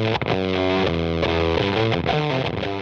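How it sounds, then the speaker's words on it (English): An electric guitar played through a Catalinbread StarCrash fuzz pedal with the bias knob turned all the way up. It gives a sputtery, gated, Velcro-like fuzz, with sustained distorted notes that break up and cut out briefly. "All the way up gives you a sputtery and Velcro-esque sound."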